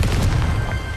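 Confringo blasting spell explosion from Hogwarts Legacy, a loud, dense rumbling boom that fills the low end and stays heavy for about a second before easing slightly.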